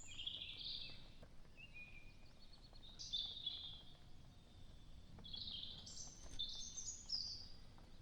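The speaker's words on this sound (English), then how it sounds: "you only have to listen and you hear the birds chirping" Faint bird chirps and tweets drift in from a distance in the Black Forest over a soft, steady outdoor background, coming in scattered bursts.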